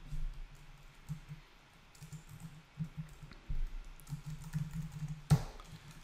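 Typing on a computer keyboard while a URL is entered in a .NET web application, steady irregular clicking keystrokes close up, with a louder clack near the end and no talking.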